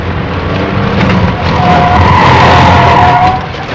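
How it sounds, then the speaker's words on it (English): Loud, sustained engine roar of a 1987 BMW 325i sedan with a tire squeal as it skids and fishtails, the noise swelling and then easing off. "once the car begins to fishtail like that"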